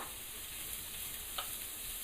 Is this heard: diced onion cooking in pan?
yes